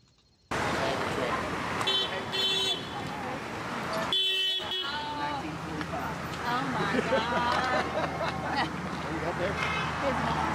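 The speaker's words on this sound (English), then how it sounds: "Oh, that's why they're honking." Car horns honking at protesters beside a road, several toots and longer blasts scattered over passing traffic, with people talking close by throughout.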